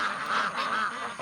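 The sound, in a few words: ducks and geese quacking and honking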